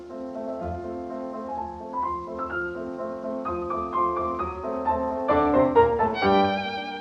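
A recorded chamber music performance of a development section, with sustained bowed melodic lines over a soft, steady accompaniment, growing gradually louder and brighter toward the end, moderately quiet and without talk.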